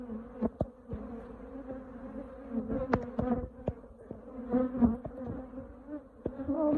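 Honeybees fly around an open hive during a colony rescue: a steady close buzzing drone, with individual bees zipping past the microphone in louder, brief swells.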